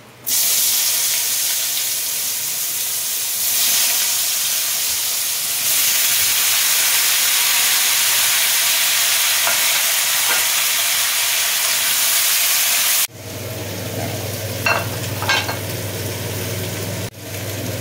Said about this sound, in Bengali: আমি এই তেলে এঁচড়টাও ভেজে নেবো।